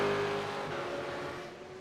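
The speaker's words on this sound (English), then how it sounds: "As cars are now starting to cross this line." Supercars race past at Fuji International Speedway in the iRacing simulation, with a steady, buzzing engine drone that holds and slowly fades, heard alone without commentary.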